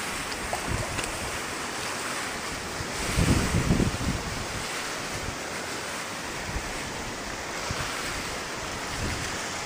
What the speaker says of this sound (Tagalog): Ayan, lumalakas ng hangin, oh.